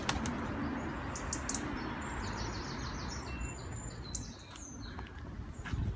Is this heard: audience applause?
no